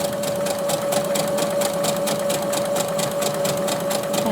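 A sewing machine stitches steadily at a fast, even rhythm, its loud mechanical chatter pulsing close up with a constant motor whine and no voices.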